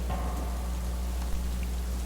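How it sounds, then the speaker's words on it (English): Hard rain lashes the windows of a stalled truck as the wind picks up, a dense, steady patter close by, used as an audiobook sound effect with no voices. "Rain hit the windows of the lifeless truck hard as the wind picked up"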